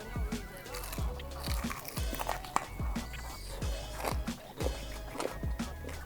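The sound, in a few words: biting into crunchy fried chicken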